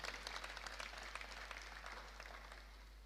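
Applause from an audience at a presidential speech, faint and distant, a soft continuous patter of clapping over a steady low hum.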